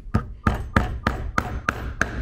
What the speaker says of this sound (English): I'm just going to take my little hammer here and